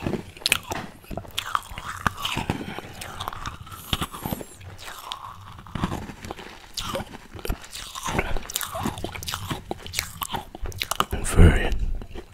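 Close crunchy bites and chewing of a marshmallow unicorn candy pop, repeated wet crunches and soft munching across the stretch, with a louder crisp bite near the end.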